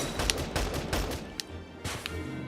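Gunshots from a squad-based tactical game set in a wartime world, several sharp cracks scattered across a short stretch of battle, over a steady low rumble.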